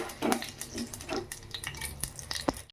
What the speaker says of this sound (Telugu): నెయ్యి కాగే వరకే దీంట్లో మనకి కావాల్సిన తిరమాత గింజలు, పచ్చిపప్పు, జీలకర్ర, ఆవాలు ఈ 3 వేసుకొని బాగా వేపుకుందాం